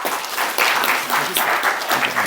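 An audience at a healthy-eating and tuberculosis-prevention education session bursts into steady, close applause, dense overlapping claps rising and falling slightly over a couple of seconds.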